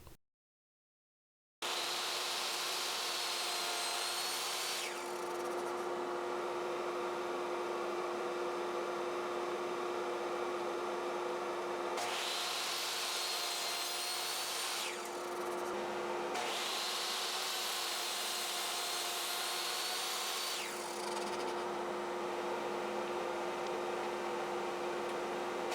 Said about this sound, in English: I could hold the clamp to move the jig along the table saw fence